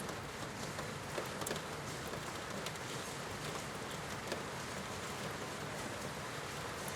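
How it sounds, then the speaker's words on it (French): Steady rain falls outside in a dense, even patter that continues without a break, with occasional sharper drops striking a surface nearby. "Et au même moment où cette pluie tombe à l'extérieur,"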